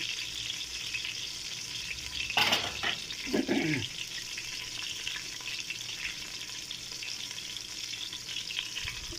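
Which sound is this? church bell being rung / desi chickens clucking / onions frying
onions frying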